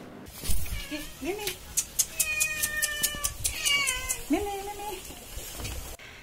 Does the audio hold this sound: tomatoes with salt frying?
no